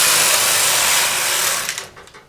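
A knitting machine carriage sweeps across the needle bed knitting a row of a short-rowed pinwheel baby blanket, a steady bright mechanical rasp that runs close and loud, then tapers off with a few clicks near the end.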